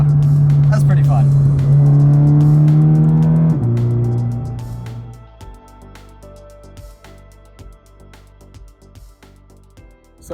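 A Toyota 86 engine is wound out hard to redline, a loud sustained climbing drone of rising gear pitches that then drops away as the car coasts, leaving a quieter ticking and rumble near the end.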